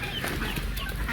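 Faint peeping of a newly hatched chick mixes with clucking chickens on a farm, brief soft chirps over a low background murmur.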